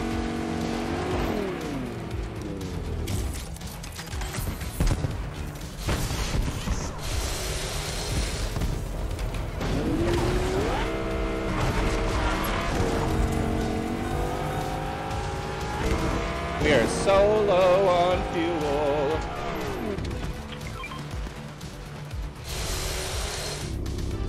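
A vehicle motor in Fortnite rumbles continuously, revving up and down amid game noises and tire squeal, while a player talks over it throughout.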